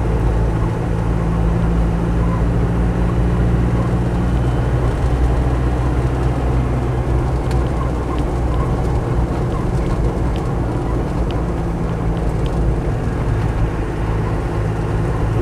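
Land Rover 110 CSW with a 200tdi engine driving with the sunroof open: a steady, loud drone of engine, road and wind noise that runs unbroken throughout, with no talking.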